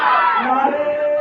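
A large crowd at a religious gathering loudly chanting a slogan in unison, a sustained sweeping roar of many voices lasting about a second.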